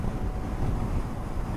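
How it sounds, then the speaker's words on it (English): Steady, loud wind buffeting the microphone on a motorcycle ride, a continuous low rumble with gusty swells and no voices. "As you can probably tell, it's quite windy today."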